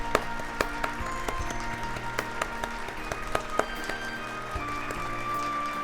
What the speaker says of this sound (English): Applause. Much uproarious applause.